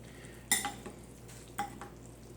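Ramen being mixed in a bowl with fish and fried onions, two short bursts of utensil clinks and scrapes against the bowl, fairly faint over a quiet background.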